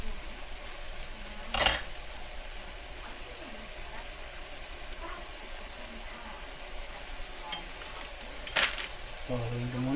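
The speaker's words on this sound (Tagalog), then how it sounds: "So, haluin ko muna. Halo muna." Tex-Mex food sizzles steadily in a pan and gets stirred, with two sharp scrapes or knocks of the utensil against the pan, close and moderately loud.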